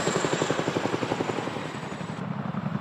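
A Chinook heavy-lift helicopter's rotor thumps in a fast, steady rhythm, fairly close, with a whining turbine hum above it and no voices.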